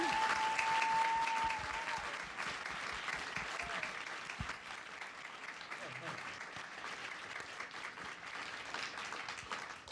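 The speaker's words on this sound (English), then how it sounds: "with a big hand of applause, we're going to welcome back our spacesuit engineers" A large audience at a NASA event introducing Artemis generation spacesuits gives sustained, steady applause welcoming the spacesuit engineers, with a brief voice early on.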